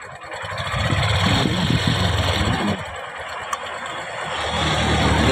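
A tricycle's motorcycle engine runs close by while a child learns to ride it, holding a steady idle with a rough low rumble and brief surges, loud and continuous throughout.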